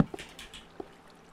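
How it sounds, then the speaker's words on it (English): Minecraft Beta 1.7.3 creeper falling and taking damage, heard as two soft, brief thuds about two-thirds of a second apart over quiet game ambience. "That was the sound of a creeper dropping and taking some damage."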